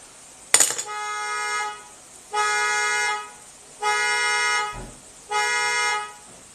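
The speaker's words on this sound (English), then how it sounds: "You just set my car alarm off." A car alarm going off in three long, steady blaring bursts, each lasting over a second with short gaps between, loud and close, preceded by a brief sharp clatter.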